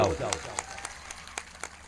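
An audience claps at a live Gujarati stage show, a light scatter of separate claps with no steady ovation, heard under a speaking voice.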